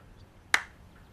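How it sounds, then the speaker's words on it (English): A single sharp hand clap rings out once, crisp and close, in a quiet room, signalling a hypnotized man to wake. "When I clap my hands, you'll be awake, fully aware of your surroundings."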